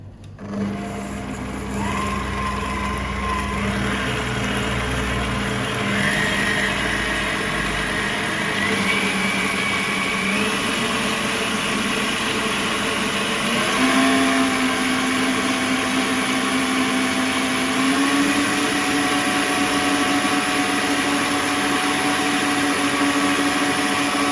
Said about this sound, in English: So we cream at a lower speed, and as it keeps mixing, we increase the speed gradually till we are done creaming our mixture.